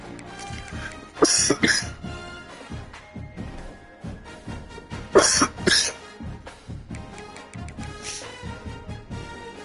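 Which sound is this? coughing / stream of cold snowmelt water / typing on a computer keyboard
coughing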